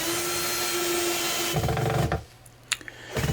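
Small, fine screws driven into wood with a power driver, a loud steady motor whine that abruptly drops in pitch, stops briefly, then a short sharp burst and the motor starting up again.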